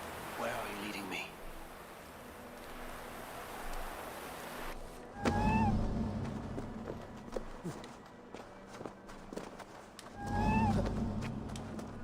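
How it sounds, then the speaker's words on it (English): A cat meows in the video game Assassin's Creed Valhalla, a few short rising mews spaced several seconds apart over footsteps and ambient game noise, with a voice talking at times. "Who put you up here, little cat?"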